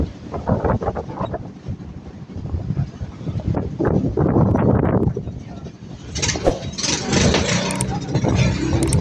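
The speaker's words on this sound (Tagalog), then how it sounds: "nagpaandar si Otol mga board kasi nadisgrasya yung pagkura niya kanina" A boat engine runs steadily, close and loud, under heavy wind buffeting, after water got into the engine when the boat nearly capsized.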